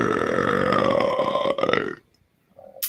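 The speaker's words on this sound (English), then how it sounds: "Rate the burp, please." A long, loud, deep burp rumbles for about two seconds and trails off, followed by a short quiet pause and a faint murmur during a casual movie-watching stream.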